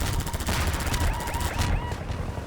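Gunfire from the player's weapon in Half-Life 2, a dense run of sharp game gunshots and bursts over a steady loud background, continuing throughout without pause.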